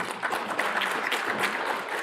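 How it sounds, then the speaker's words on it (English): An audience at a live Hussain Day event held in a courtyard breaks into steady applause, a dense wash of many hands clapping evenly for two seconds at moderate loudness, with no speech. "they really need a big round of applause"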